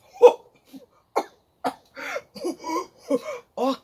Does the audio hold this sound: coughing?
yes